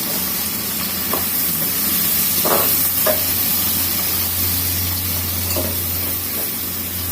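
Four onions frying in oil for pulao, a loud, close, continuous sizzle with occasional spatula scrapes and a low hum underneath.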